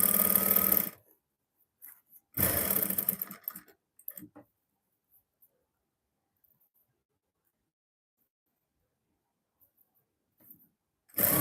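A sewing machine stitches a seam with a 1 cm allowance, giving short bursts of rapid mechanical whirring separated by quiet pauses, close and fairly faint, with a few light clicks in between.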